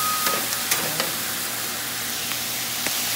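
Asian-style beef frying with garlic in a hot pan gives off a steady, bright sizzle with small pops and stirring clicks throughout, and no talking.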